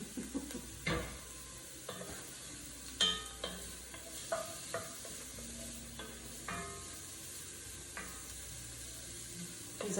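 Soft, quiet sizzling of ingredients sautéing for marinara sauce for spaghetti and meatballs, with a spoon scraping and tapping against the pan in irregular strokes every second or two.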